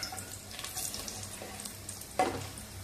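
Cashew pieces, bay leaf, cinnamon, cardamom and star anise fry in oil in a pan, a quiet steady sizzle with occasional scraping stirs and one louder clatter near the end.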